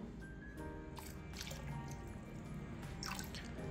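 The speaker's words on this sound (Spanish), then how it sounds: "Agarran su aguardiente y le agregarán un chorrito a su baño." A small splash of aguardiente is poured into bath water for a cilantro bath. Faint, close dribbling and dripping, with a few soft liquid plops.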